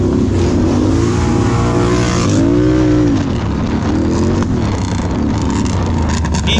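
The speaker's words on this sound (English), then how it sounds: "you're about to hear the loudest quad in GNCC history" A very loud racing quad ATV fitted with an aftermarket exhaust at a GNCC off-road race, engine roaring and revving hard with pitch sweeps, continuous and close throughout.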